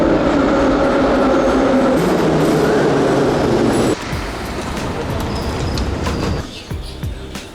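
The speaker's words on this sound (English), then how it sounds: "We're gonna hop on a Soviet train car" A Soviet metro train car rides along with a loud, steady rumble and hum, the noise shifting as it rolls, with faint squeals near the end.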